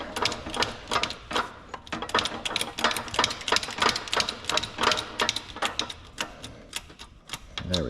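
An old socket serves as a driver to seat a differential bearing during a Nismo GT Pro differential rebuild for a 350Z/370Z, making a close, rapid series of sharp metallic clicks and taps with brief pauses.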